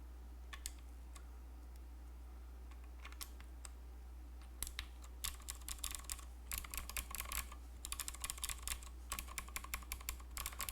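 Typing on a ph60 keyboard fitted with Pro World clicky switches: sparse clicks at first, then faster bursts of sharp, crisp keystrokes with a metallic bottom-out, close up over a low steady hum.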